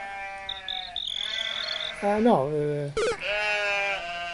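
Sheep bleating loudly nearby, with several wavering cries, while a person says a single word among them.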